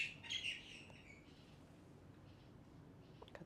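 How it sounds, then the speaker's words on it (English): Birds chirp outdoors in short, faint high tweets clustered near the start, with a few scattered calls later over a quiet background. "Got the beautiful birds here."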